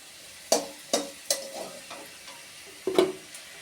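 Thin potato slices being stirred and lifted out of hot frying oil, with a few distinct sharp clinks and scrapes over a soft sizzle, close and without any talk.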